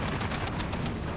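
Sustained rapid machine-gun fire from MG42s in the World War II strategy game Steel Division 2, a dense, continuous rattle of bursts filling the short stretch at steady loudness with no talk.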